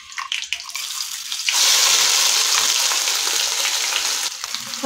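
Ground masala paste hits a hot pan for a spicy amti, bursting into a loud, steady sizzle that swells after a brief quieter start and holds close and bright throughout, with no talking.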